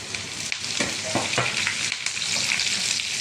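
Red chillies and curry leaves sizzle in hot oil in a pan, a close, steady frying hiss broken by a few sharp stirring scrapes.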